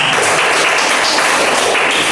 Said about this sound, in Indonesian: Tepuk tangan buat Putri Reza